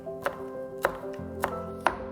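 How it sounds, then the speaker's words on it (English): A knife chops through a carrot on a cutting board in a home kitchen, four crisp, evenly spaced cuts sounding close and clear with no talking. "slightly roll the carrot towards us while we're chopping"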